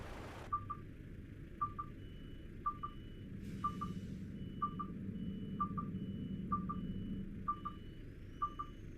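A truck in Euro Truck Simulator 2 sounds its reversing alarm, a clear, evenly spaced beep repeated about nine times over a low engine hum, with a brief wind-like hiss partway through.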